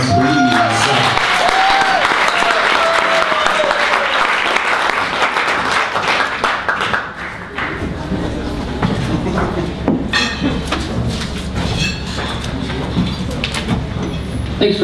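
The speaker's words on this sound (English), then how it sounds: "Can we give him a round of applause, please?" Audience applause for a reader at a literary reading event, loud and sustained through most of the span, with a low rumble and faint voices joining toward the end.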